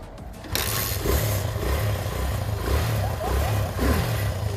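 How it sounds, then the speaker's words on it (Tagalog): A cold motorcycle engine idles while warming up on a practical driving course, a close, steady low rumble with a faint pulsing rhythm that holds throughout after a quiet start. "Malamig po kasi yung motor. Pinapainit ko kanina."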